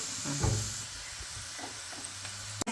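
Ginger and garlic frying in a pan for a fish pickle, a soft continuous sizzle with a few faint stirring scrapes and a sharp clatter at the very end.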